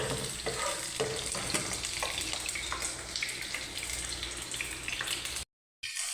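Onions sizzle and fry steadily in a hot pan while cooking adobong sitaw with ground chicken, with occasional stirring clatter, before the sound cuts off abruptly near the end.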